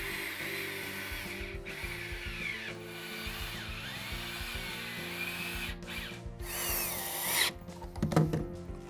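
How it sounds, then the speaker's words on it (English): A power drill bores pocket holes into southern pine boards for picnic table legs, with whirring motor runs that rise and fall, short pauses between holes and some scraping handling noise, close and without talk. "I also drilled 2 pocket holes at each end to connect the legs."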